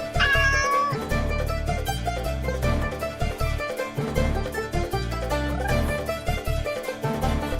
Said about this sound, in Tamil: பூனை ஓடிடுச்சு புடிங்க பிடிங்க அந்த பூனையை